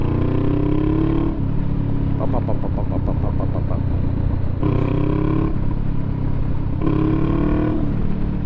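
Motorcycle engine running steadily while riding a bumpy road, a loud continuous drone that rises and falls in pitch with gear and throttle changes, close and unbroken throughout, with no speech over it.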